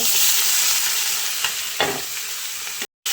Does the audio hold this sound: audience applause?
no